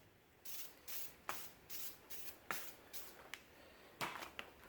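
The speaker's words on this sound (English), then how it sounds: "Silicone spray. I think it's okay for rubber." Silicone spray hissing onto moped tyre rubber in a quiet space, a series of about eight short, close bursts spaced roughly half a second apart.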